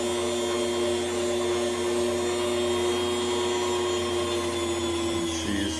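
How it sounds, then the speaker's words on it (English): A Weston meat slicer runs steadily while slicing bacon, a constant motor whine with a strong tonal hum that holds close and loud throughout, shifting slightly near the end as the blade takes the meat. "cutting up some really nice bacon. I think this is going to be a really good slicer to do that."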